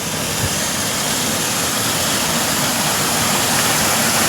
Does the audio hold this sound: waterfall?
yes